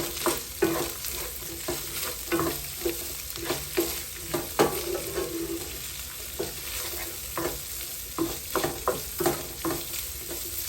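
Chopped onions, celery and carrots cook in a pot for a chili of black-eyed beans and ground beef, with a steady soft sizzle broken by repeated close scraping and stirring strokes at an irregular rhythm.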